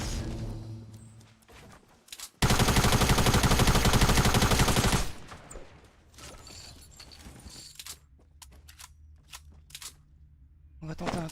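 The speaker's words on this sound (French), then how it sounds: "j'entends que ça se tire dessus là-bas" Bursts of distant gunfire in a Fortnite match ring out, with a loud sustained volley for a few seconds followed by scattered fainter shots and game ambience.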